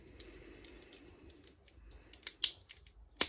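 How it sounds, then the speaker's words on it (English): Flathead screwdriver prying the back off a car key fob, quiet scraping followed by two sharp plastic clicks near the end, close and alone. "push the flathead underneath it until you hear a click and the back comes off"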